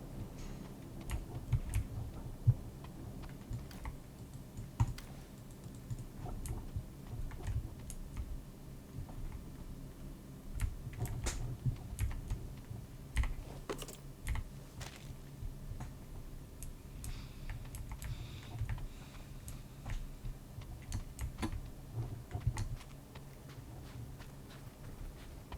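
Faint, irregular clicking of keys on a computer keyboard, tapping steadily at low volume over a quiet background hum.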